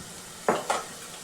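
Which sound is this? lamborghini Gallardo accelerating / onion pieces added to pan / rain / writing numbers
onion pieces added to pan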